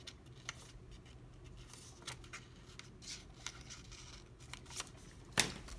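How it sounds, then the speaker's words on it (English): Scissors snip slits into a paper planner in a quiet room, with soft, faint cuts and paper rustles and one sharper snip near the end. "So I'm just gonna cut the slits here."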